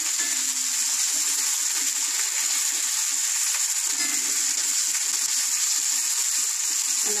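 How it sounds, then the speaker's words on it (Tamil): Boiled, cooled bitter gourd sautés in hot oil in a pan, giving a soft, even hiss of frying that runs steadily from start to finish, fairly near and unaccompanied by any talk. "இப்போ பாகற்காய் போடுறேன். பாகற்காயை வேக வச்சுட்டு கொஞ்சம் ஆற வச்சுட்டு போடணும். இந்த எண்ணெயிலே கொஞ்ச நேரம் வதக்கணும்."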